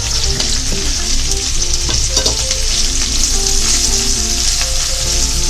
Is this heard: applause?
no